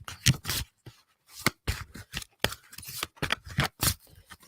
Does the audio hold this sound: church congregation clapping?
no